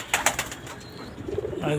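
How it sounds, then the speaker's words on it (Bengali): Pigeons cooing softly at close range in a small pigeon farm, low throaty calls near the end, with a few faint clicks and rustles before. "ওর জন্য এই কবুতরের খামার, ছোটোখাটো একটা খামার।"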